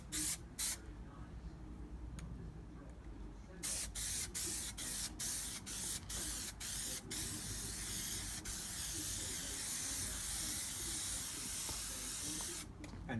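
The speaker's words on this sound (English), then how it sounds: "we're basically going to spray both this surface, and then also we're going to spray this headlining" Spray adhesive hisses from a can onto the roof headlining of a self-built VW T5 camper van, a steady close hiss broken by several short stops early on, then running almost continuously.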